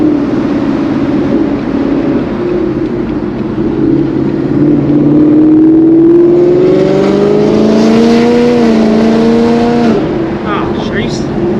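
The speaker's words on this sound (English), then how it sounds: "Nothing to see here besides my loud ass car." Loud V8 of a catless, E85-fuelled S550 Ford Mustang with a full bolt-on setup, rumbling steadily, then revving and climbing in pitch before dropping off, heard up close with brief talk.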